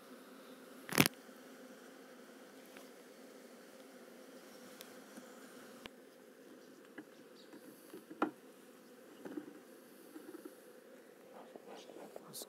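A soft, steady drone of honey bees buzzing around an open hive during an inspection fills the background, with a couple of sharp clicks and knocks in the foreground.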